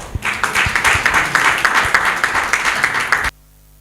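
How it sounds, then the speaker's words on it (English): Audience applause fills a hall after a talk at a gender equality policy event, steady dense clapping that runs for about three seconds, then cuts off abruptly into near silence. "Please, another big round of applause for our speaker"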